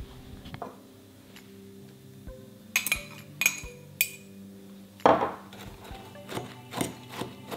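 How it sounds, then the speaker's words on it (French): Whisk or spoon clinking against a bowl while melted butter is stirred into crushed speculoos biscuits for a cheesecake base, a series of sharp irregular taps and scrapes, close and fairly quiet, with no talking. "nous allons mélanger notre beurre que j'ai fait fondre avec notre spéculoos"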